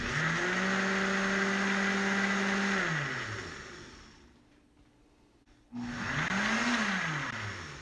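A Homgeek 1450W countertop blender crushing ice runs loud and close, its motor pitch shifting and slowing, then briefly dropping away before surging back up to speed.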